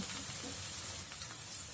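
Ginger garlic paste and ground spices frying in a pan over a low gas flame while stirring, a soft steady sizzle and hiss close by, fairly quiet and continuous.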